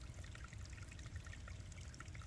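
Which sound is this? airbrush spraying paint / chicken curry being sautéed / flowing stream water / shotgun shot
flowing stream water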